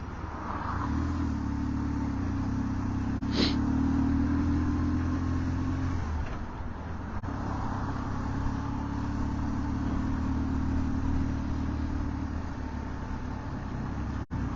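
Motorcycle riding up and down San Francisco hills, a steady low engine rumble with shifting pitch as it revs and eases, heard close under a constant wind-like roar throughout.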